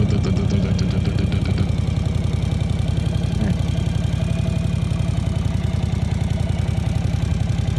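A running engine with a motorcycle-like character putters steadily at idle, a dense, even, low pulsing clatter that stays close and constant throughout with no voices over it.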